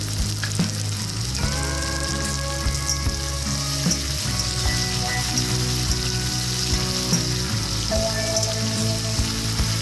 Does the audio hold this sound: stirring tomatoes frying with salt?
yes